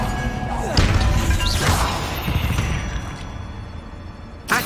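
Bombarda blasting spell from Hogwarts Legacy, a series of crashing, thudding impacts with whooshing bursts, loud at first and fading toward the end before a final sharp hit.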